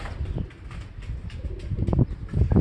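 Pigeons take off and flutter close by, with soft low cooing and brief wing flaps in a short burst.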